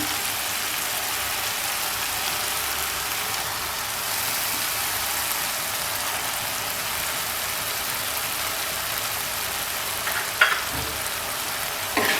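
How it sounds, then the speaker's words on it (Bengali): Spice paste sizzles in a hot pan for a hilsa fish curry with potato and brinjal, a steady loud hiss that holds evenly throughout, with a faint clatter near the end. "মশলাটাকে খুব ভালোভাবে কষিয়ে নেব"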